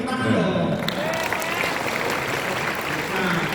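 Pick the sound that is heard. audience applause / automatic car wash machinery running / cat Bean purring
audience applause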